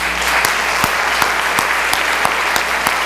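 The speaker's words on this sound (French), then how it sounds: "Nous vous demandons d'applaudir ces auteurs." Audience applause at a French-language recognition ceremony, a steady dense wash of many hands clapping close and loud throughout, with no voices over it.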